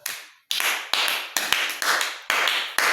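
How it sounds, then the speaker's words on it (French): Crowd applause for a young performer at a church gathering, loud, close bursts of clapping that break off and restart in several surges, with no voices heard. "Acclamez très fort pour notre jeune talent."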